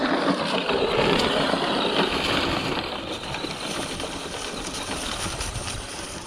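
Dually pickup truck with a custom front-end conversion driving past, a loud rough engine roar that eases and fades after a few seconds, heard outdoors with steady road rumble.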